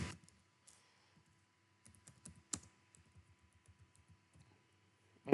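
Keys click on a computer keyboard while text goes into an AutoCAD drawing: sparse, quiet, irregular taps with a few sharper clicks and short pauses between them, close by, with no talk.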